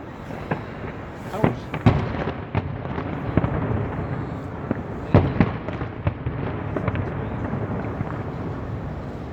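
Fireworks display over Gwangalli beach in Busan: a long run of sharp pops and booming bursts, some close and loud, others further off, over wind noise on the microphone, with people talking under the explosions.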